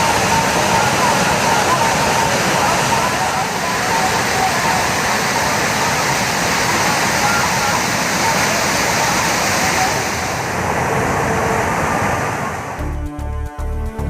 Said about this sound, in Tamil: போடி அணைப்பிள்ளையார் நீர்வீழ்ச்சியில் கடும் வெள்ளப்பெருக்கு ஏற்பட்டு தண்ணீர் ஆர்ப்பரித்து செல்கிறது